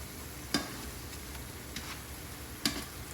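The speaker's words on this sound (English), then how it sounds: "we're gonna flip over all our shrimps to get some nice even cooking on the other side as well" Jamaican spicy pepper shrimp being flipped in a hot pan, a steady quiet sizzle broken by two sharp clacks of the turning utensil about two seconds apart, with no talking.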